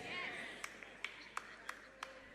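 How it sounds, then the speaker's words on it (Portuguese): A sparse audience gives scattered, faint applause at a Christian sermon, about five separate claps over a soft room murmur with a voice faintly audible. "Eu sabia que não receberia muitos aplausos."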